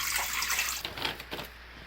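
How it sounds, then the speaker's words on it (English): Water pours steadily into an Instant Pot pressure cooker for under a second, then trails off into a few soft splashes and drips, close by. "pour 2 cups of water into the Instant Pot"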